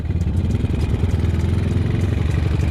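A Honda Tiger motorcycle engine idles with a leaking exhaust, giving a close, steady, rough chugging rumble with a fast pulsing beat and a loose, clattery edge throughout.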